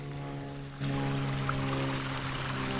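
An artificial waterfall driven by a pump pours water steadily, and the rushing splash grows suddenly louder partway through, then continues as a constant close stream with a faint steady hum beneath.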